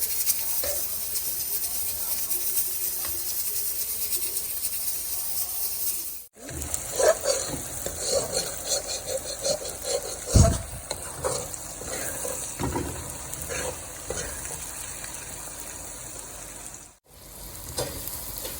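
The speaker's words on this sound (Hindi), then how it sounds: "कढ़ाई में ऑयल डाल के हमने इसमें प्याज डाल दिए सुनहरी होने के लिए।" Oil sizzles loudly in a wok as chopped onions fry toward golden for mutton biryani, with scraping stirs and clanks of a spoon, a steady hiss throughout.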